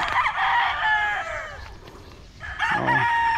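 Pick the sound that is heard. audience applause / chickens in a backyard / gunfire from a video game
chickens in a backyard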